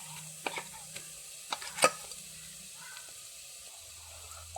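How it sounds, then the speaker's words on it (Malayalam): Ground roasted masala paste tipped into sautéing onions for a Kerala shark curry: a soft sizzle under scattered stirring scrapes and a few sharp clacks of a spoon against the pan. "അരച്ച കൂട്ട് അതിലേക്ക് ചേർത്ത് കൊടുക്കാം"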